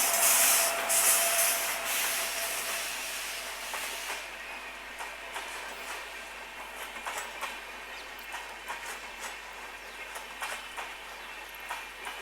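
The Patalkot Express, train 14624 from Ferozepur Cantt to Chhindwara, rolls into platform 1 with a loud, broad rushing roar at first. Then the rumble eases into a quieter run, with repeated wheel clicks and rail rubbing.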